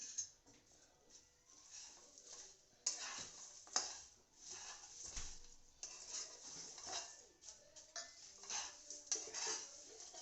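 Onion-garlic masala roasting in oil in a pan is stirred steadily, with soft scraping and clinks of a spoon against the pan over a faint sizzle, close and moderately quiet, no talking.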